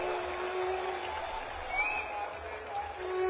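Crowd applause at an Aam Aadmi Party political rally, a fairly quiet, sustained patter of many hands heard at a distance, with some background voices and tonal sounds under it.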